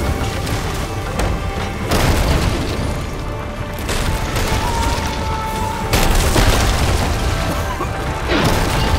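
Ship cannons fire in Sea of Thieves during a galleon battle, with repeated heavy booms and crashing impacts landing every couple of seconds over a noisy, busy background.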